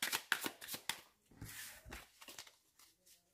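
Tarot cards being shuffled close by, a quick run of crisp riffling flutters followed by softer sliding and tapping, fairly quiet.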